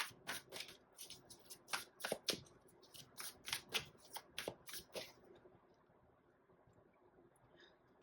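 Tarot cards are shuffled and drawn in a quick series of crisp riffling slaps for about five seconds, close and fairly soft, then a near-silent pause with a faint card snap at the end.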